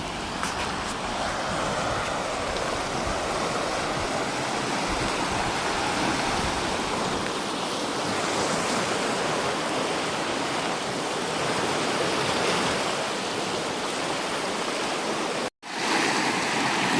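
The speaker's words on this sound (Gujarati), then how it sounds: "જોરદાર પાણી આવી રહ્યું છે" Loud, continuous rush of fast-flowing water through a village canal, a dense steady roar heard up close, briefly cut off near the end.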